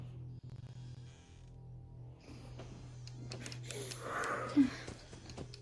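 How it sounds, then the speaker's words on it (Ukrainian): Heavy raspy breathing in the horror game Five Nights at Freddy's 4, faint wheezy exhalations over a low steady hum, building slightly toward the end, heard without talk. "Є, є, є дихання, є."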